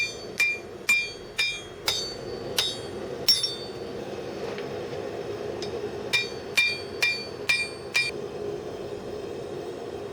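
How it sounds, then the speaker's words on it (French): Steel layers fresh from a gas forge being forge-welded under a hammer: a steady series of sharp, ringing metallic blows, about a dozen strikes in two bursts with a short pause between, close and loud over a low forge roar. "Je colle les couches d'acier en les martelant sitôt sorties de la forge"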